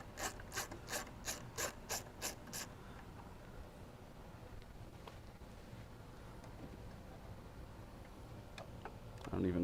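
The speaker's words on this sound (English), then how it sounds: "Try and use a regular ratchet and very gently break it loose because it's brittle plastic up here" A hand ratchet gently breaking loose a bolt set in brittle plastic, heard as a quick run of about eight sharp clicks that then stops, followed by quieter faint mechanical handling.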